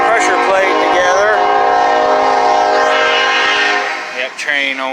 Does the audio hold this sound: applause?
no